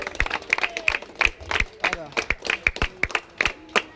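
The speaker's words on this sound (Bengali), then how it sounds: "সবাই জোরে হাততালি দাও" A crowd at a prize-giving ceremony claps loudly in a lively, uneven burst of sharp hand claps, close and energetic, with voices mixed in.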